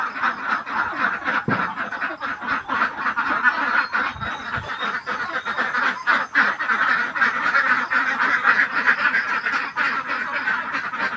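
Ducks in a small duck pen quack loudly and steadily at feeding time, with many overlapping calls close by. A few brief clattering knocks sound under the chorus.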